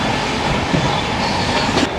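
An express train on Indian rails, the Tamil Nadu Sampark Kranti, runs flat out at 110 km/h through Jammikunta station without stopping. Heard from on board as a loud, steady roar with wheel rumble and faint clatter, with no voices.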